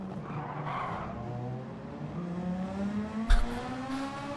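Race car tires squeal in a long, rising skid while braking into a hairpin in the Gran Turismo video game, engine tone climbing steadily beneath, with a sharp thump of contact near the end.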